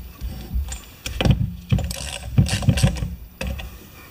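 A ratchet with a 3/8 inch socket loosens the bolts on a differential cover of an MTD lawn tractor. Close, loud clicking and clanking comes in uneven bursts of metallic ratcheting.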